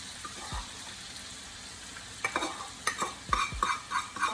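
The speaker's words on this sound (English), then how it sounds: "And just stir it." Shrimp being stirred into a spicy Cajun sauce in a pot for a shrimp boil, with soft wet scraping and sloshing strokes that grow busier and louder toward the end, heard up close with no talking.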